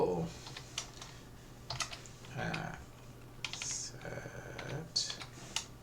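Computer keyboard typing at a desk, a short run of quick, irregular key clicks in small bursts, faint and close, with a few brief pauses between strokes.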